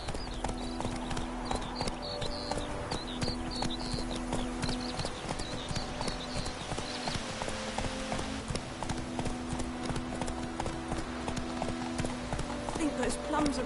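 Horse Roach galloping in The Witcher 3, a steady fast rhythm of hoofbeats close by, continuous throughout, with game music underneath and voices talking over it.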